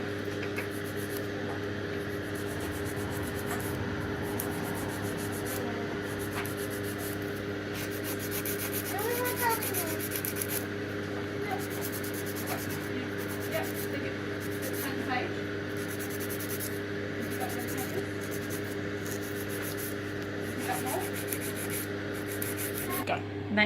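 A nail file rasps against an acrylic nail in a nail session, a soft continuous scratching rub close up, heard beneath a steady background hum while a person talks.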